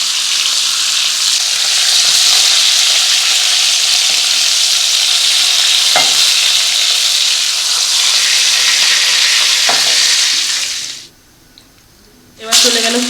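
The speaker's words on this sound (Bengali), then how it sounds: "গরম তেলের মধ্যে চলে গেল পটল। পটলগুলো হালকা ভেজে নিতে হবে।" Pointed gourd pieces fry in hot oil with a loud, steady hiss and crackle for about eleven seconds, then it cuts off abruptly before a brief return of sizzling.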